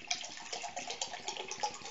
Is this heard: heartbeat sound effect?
no